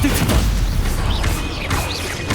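Hogwarts Legacy spell casting of Incendio, Confringo and Expelliarmus: a dense barrage of fiery blasts, booming impacts and whooshing magical bursts, loud and continuous with overlapping crashes, alongside game sound effects.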